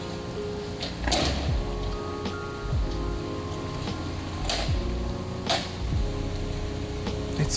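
Rain falls steadily in a continuous dense patter, with a few sharper louder drops or drips standing out now and then; no voices.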